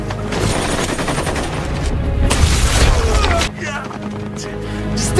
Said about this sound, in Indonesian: Akhirnya Brandon berhasil menembak Gazakov yang membuatnya tewas seketika